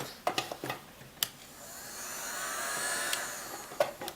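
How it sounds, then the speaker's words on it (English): A hot air blower heats an iPhone 5 near the home button during a screen repair, a soft airy whoosh rising and falling in the background, punctuated by a few light taps and clicks. "I got a hot air blower, just a little bit heat near the home button"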